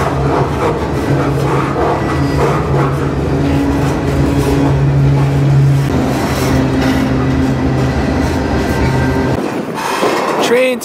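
A freight train on the Highline rail route rumbles with a heavy, continuous low drone, steady tonal hum and rattling car noise, loud and close throughout before the rumble drops away abruptly near the end.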